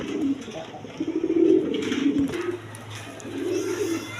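Pigeons coo in low, rolling phrases, a pair of Rajgolla pigeons among several breeds in a loft, with repeated throaty calls close by and steady background noise.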